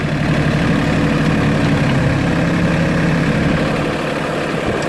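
An LS tractor engine idles nearby with a steady, loud, low rumble that holds unchanged throughout, no voices.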